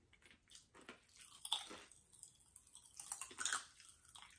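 Pop Rocks candy chewed close up, irregular wet crunching and crackling bites with no talk.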